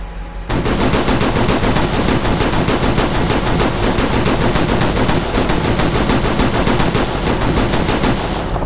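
Sustained rapid automatic gunfire in the combat game Operation Flashpoint: Red River, starting abruptly after a short quiet moment and hammering on loud and close in a steady continuous rattle, with no voices heard.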